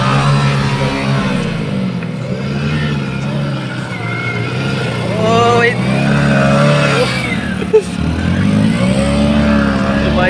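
A motorcycle stuck in sand revs hard again and again, its engine pitch swooping up and down as the wheel throws sand, with people talking over it.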